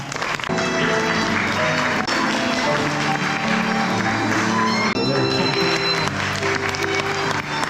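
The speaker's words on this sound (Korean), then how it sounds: "하객 여러분, 뜨거운 박수 부탁드립니다." Wedding guests applaud steadily as the mothers of the couple enter a Korean ceremony hall, sustained dense clapping over music, with a voice heard faintly underneath.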